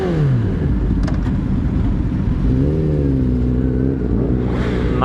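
Kawasaki Ninja 1000 motorcycle fitted with a barrel exhaust, revving and pulling away on a highway, a loud, close, continuous engine drone with rising pitch sweeps through the gears, no talking.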